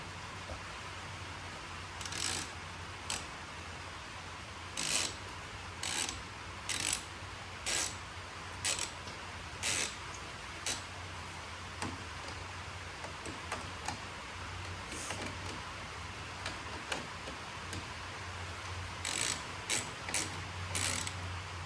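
Ratchet tightening a bolt on a Camaro, giving short clicking bursts repeated at irregular intervals over a steady background hum, close and fairly crisp.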